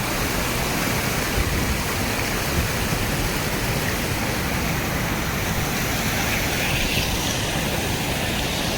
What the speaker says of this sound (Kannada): ಮಳೆ ಬರ್ತಾ ಇದೆ ಈಗ